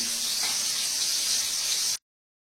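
Hot oil crackling and spattering as fritters fry in a home kitchen: a loud, dense sizzling hiss that holds steady and then cuts off abruptly, with no voices.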